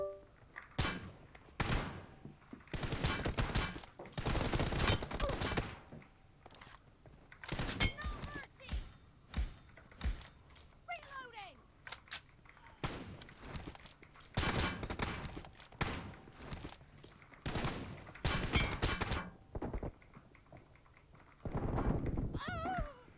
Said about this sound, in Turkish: Ya kafasına sıkıyorum abi.